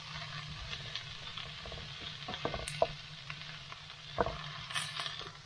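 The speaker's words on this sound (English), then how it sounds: "Added the meatballs, and get the balls nice and warm and cooked through." Meatballs fry in a pan with a soft, steady sizzle, broken by a few small pops and the scrape of stirring now and then.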